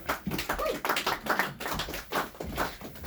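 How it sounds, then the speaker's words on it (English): A comedy club audience claps for a comedian heading to the stage, with uneven, rowdy hand claps pulsing in close, loud waves for a few seconds. "give a warm but rowdy round of applause for my man Evan Wonderland"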